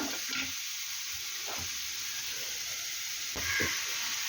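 Chopped banana stem and ground coconut paste being mixed in a hot pan, a steady soft sizzle with a few short scraping strokes of a spoon, no voices.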